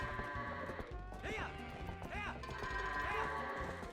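Goats bleat in The Legend of Zelda: Twilight Princess HD, a few wavering nasal calls spaced out over a steady game music backdrop, with clattering hoof-like thuds.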